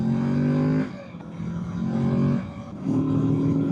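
2024 Kawasaki Z650 motorcycle accelerating in sixth gear, the engine note climbing in pitch over three pulls separated by short dips, loud and close with rising harmonic whine and no speech.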